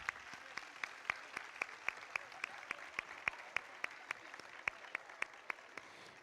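Applause at an annual gala evening, a steady run of sharp claps about every quarter second, fairly quiet and even throughout with no one talking over it.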